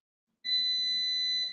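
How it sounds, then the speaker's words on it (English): An air fryer gives a single sustained electronic beep, a clear high tone with a harmonic above it that holds for about a second after silence. "Oh, I think Manos is Manos is beeping. fire So alarm. that's my air fryer."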